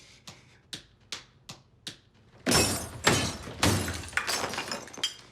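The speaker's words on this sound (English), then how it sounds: "smashes his own head into a mirror." Five sharp, evenly spaced knocks come first. Then a loud crash of a head smashing into a mirror sets off glass shattering, with a burst of breaking shards and scattered tinkling fragments that fade out.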